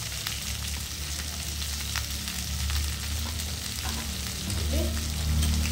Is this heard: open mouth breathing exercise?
no